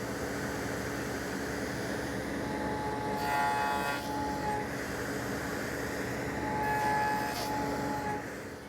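Hand saw cutting wooden tenons for joinery, a steady continuous rasp with brighter rising strokes near the middle and end, close and alone.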